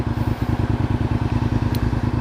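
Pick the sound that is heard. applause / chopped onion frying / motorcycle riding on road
motorcycle riding on road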